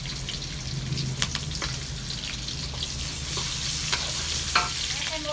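Golden-browned onions and garlic frying in a pan before minced pork goes in, a steady soft sizzle with occasional stirring clicks and scrapes, close and fairly quiet, no talking.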